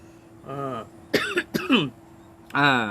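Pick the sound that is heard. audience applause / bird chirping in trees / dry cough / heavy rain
dry cough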